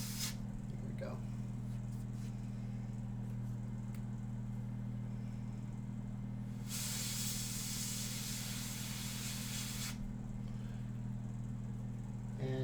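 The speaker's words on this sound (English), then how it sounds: "I'm probably about 2 inches away as I'm spraying this tight detail here" An airbrush sprays ink on a portrait from about two inches away, giving a steady hiss that runs for roughly three seconds mid-clip over a constant low hum, with a few faint spray bursts around it.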